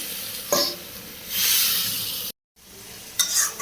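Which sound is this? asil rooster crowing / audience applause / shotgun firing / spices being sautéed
spices being sautéed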